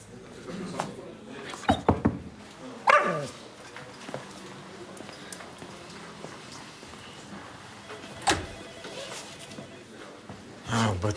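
A dog barks and whimpers in a few scattered yelps and whines, fairly close, mixed with rustling and people talking.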